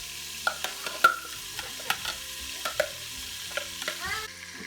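Onions and garlic sauteing in an Instant Pot, with scattered scraping stirs over a low sizzle, close and fairly quiet, without talk.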